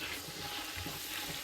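Onions and tomato sizzling and frying in a pot for biryani, a close, steady crackling hiss with faint stirring, no voices.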